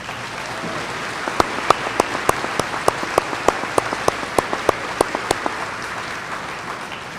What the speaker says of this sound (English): I think that calls for a round of applause for all of us.